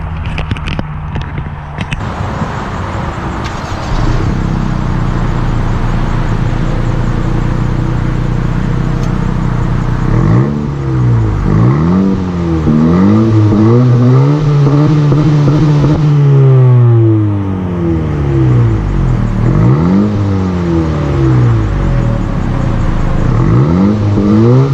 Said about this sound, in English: Heard a nice little roar from the SI.